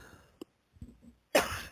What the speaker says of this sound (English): Excuse me, I got a cough here.